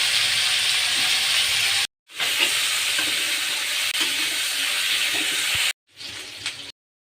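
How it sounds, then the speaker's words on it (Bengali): Cauliflower pieces deep-frying in plenty of hot oil in a wok, a loud, steady broadband sizzle that cuts out briefly twice, with no talking. "এই তেলে আমি কপিগুলো ভেজে নেব"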